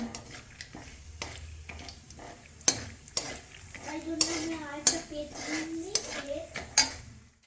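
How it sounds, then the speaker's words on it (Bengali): Long beans fry in a pan as a utensil scrapes and clanks against the metal, with a soft sizzle underneath and a faint voice at times. "বরবটিটা কিন্তু লাল লাল করে ভেজে নিচ্ছি"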